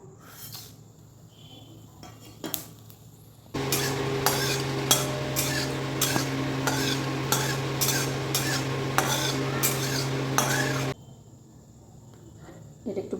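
Dry red chillies and five-spice seeds hit hot oil with a sudden loud sizzle that crackles steadily for several seconds, with occasional stirring clinks, then drops away.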